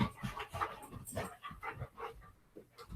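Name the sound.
dog panting and whimpering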